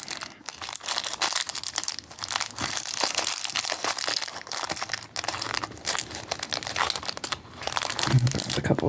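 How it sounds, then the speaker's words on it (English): Plastic packaging crinkles and crackles continuously near the microphone during jewelry-making, a busy, dense rustle with irregular louder crunches as it is handled, with no talking. "Sorry for all the crinkling."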